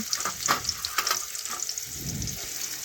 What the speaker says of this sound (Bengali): এই পেঁয়াজটা আমি একটু কিছুক্ষণ ধরে লাল লাল করে ভেজে নেব।